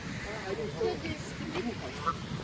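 Geese roaming freely in a park, giving brief honks between stretches of nearby talk.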